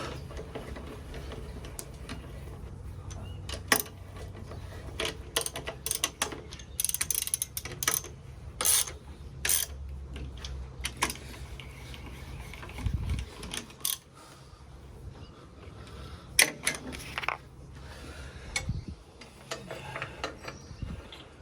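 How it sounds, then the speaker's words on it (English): Work on a John Deere 2010 diesel tractor brings intermittent metallic clicks, ratcheting and clanks as a radiator pipe is refitted, close by and moderately loud in irregular bursts. "Get this radiator pipe back on before I go any further."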